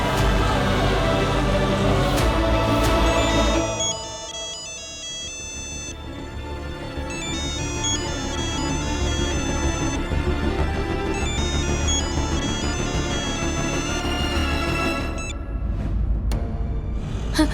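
A phone rings repeatedly with a steady electronic tone, quite loud and close, repeating in a regular pattern for the whole stretch.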